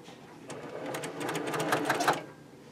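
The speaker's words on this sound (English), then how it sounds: "And then we're going to sew those rows," A sewing machine stitches together the rows of a beginner's nine-patch quilt block, a steady close whirring run of needle strokes that builds in speed for about two seconds and then stops.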